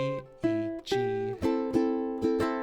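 Plucked ukulele notes of an original song, played as a slow series of separate strums and picked notes, each ringing out and decaying before the next, close and clear with no voice.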